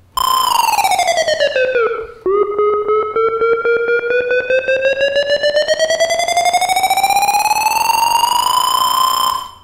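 A synthesized tension effect, its pitch modulated by a macro control over two octaves, sweeps down into a dip, then climbs steadily in a loud, continuous, harmonically rich tone resembling a siren.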